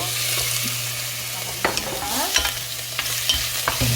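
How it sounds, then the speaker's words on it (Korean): Steak-cut meat, going in first for a curry, stir-fries in hot cooking oil with a steady close sizzle, punctuated by scraping and clacking of a utensil stirring in the pan. "불 쪽으로 가서 식용유를 두르고요. 제일 먼저 고기 볶고 감자 볶고 야채 이렇게 순서대로 해보겠습니다."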